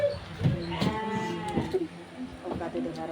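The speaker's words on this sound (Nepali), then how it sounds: "त्यो भेडालाई के छ बाहिर निस्किला छ" Sheep outdoors give several loud, close bleats in separate bursts, spaced across the moment over a background of rural ambience.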